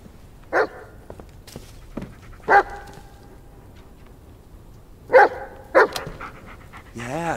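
A dog in the Blair Witch video game gives a few sharp barks and yips spaced several seconds apart over quiet panting, with someone talking at the end.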